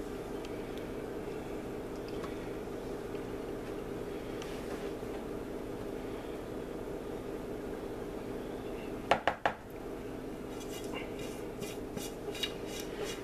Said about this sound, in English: Scrape that pan, get all that, chocolatiness out of that pan.